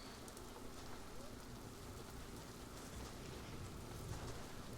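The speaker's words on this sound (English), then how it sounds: "Oh, it is raining?" Rain falls in a zoo video game, a quiet, steady hiss of drops running on without break.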